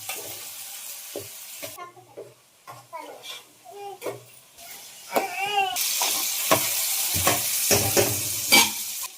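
Green chili, ginger and shallot paste frying in a pan, a hissing sizzle that swells louder in the second half with spatula stirring, under a voice talking with a voice at times.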